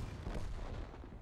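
A tank cannon firing from an EBR 90 in World of Tanks, one dense, heavy boom with a rough low rumble that fills the moment without a break, heard faintly, no voices.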